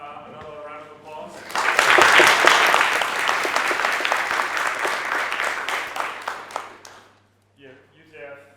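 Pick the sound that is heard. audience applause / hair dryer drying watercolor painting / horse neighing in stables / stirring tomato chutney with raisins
audience applause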